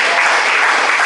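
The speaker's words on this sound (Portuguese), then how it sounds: "Pode se assentar e louvar a Deus com palmas" A church congregation claps steadily in praise, a dense, loud wash of applause with no pauses and no talking over it.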